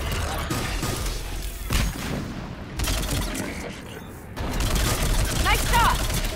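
Mass Effect 3 combat on Thessia, with bursts of gunfire, booms and mechanical clatter filling the scene in loud, uneven waves amid battle noise, while voices speak over the fighting.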